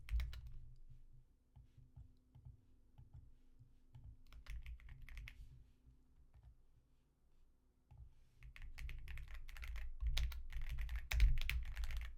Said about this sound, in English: let me just type something up real quick